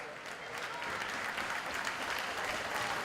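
A crowd at a U20 World Junior Ball Hockey Championship gold medal game, Canada against Czechia, applauds steadily for an injured player, a dense, even wash of clapping held at a moderate distance throughout.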